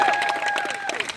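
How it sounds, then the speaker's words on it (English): A festival crowd at a Renaissance Festival comedy show applauds a volunteer named Haley in a brief, steady burst of clapping, with a thin tone running through it. "So how about one more round of applause for Haley?"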